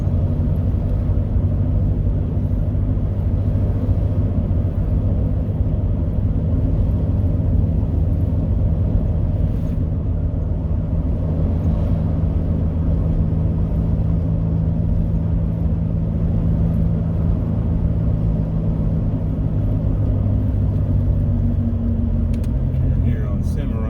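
A 2006 Chevy Trailblazer drives along with a steady, loud low engine and road rumble, a continuous drone without clear gear changes.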